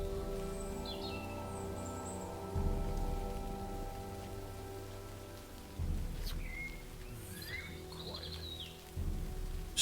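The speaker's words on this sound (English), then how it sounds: "The rain continues to fall over and over again without sign of stop" Steady rain falls in a VRChat medieval roleplay world during a wagon caravan, a continuous wash of drops with low rumbling swells like distant thunder and a few faint high chirps above.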